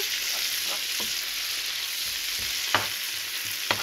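Garlic frying in hot oil in a pan for Upper Egyptian okra stew with meat, a steady close sizzle with occasional stirring clinks of a utensil.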